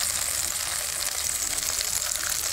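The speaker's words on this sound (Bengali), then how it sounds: "মাছটা প্রায় ভাজা হয়ে গেছে" Fish fries in a pan with oil, giving a continuous bright sizzle and crackle at a steady level throughout, with no voices.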